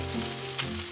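Minced garlic, onion and bell pepper sizzle steadily in a hot pan, a close, continuous frying crackle over a brief moment of stirring.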